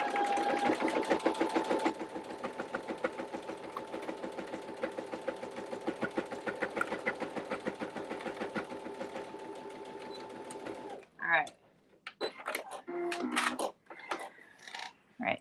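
A sewing machine stitches a sling, a fast steady mechanical whirring chatter that runs continuously for about eleven seconds, then stops and gives way to short handling clatters and rustles near the microphone.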